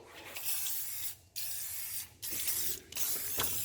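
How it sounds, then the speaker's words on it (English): MO91 lubricant sprayed from an aerosol can onto plastic, heard as three or four close, steady hissing bursts of about a second each, separated by short pauses. "What I'll do, I'll just spray that over the plastic."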